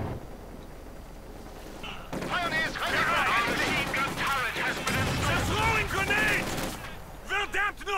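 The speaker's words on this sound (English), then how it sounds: "Panzer IV springs an assault, machine guns blazing, tearing into the poor, unfortunate devils." Machine gun fire in Company of Heroes 2 as a Panzer IV assaults, heard as dense, continuous rattling bursts over several seconds, fairly loud and mixed with other battle noise.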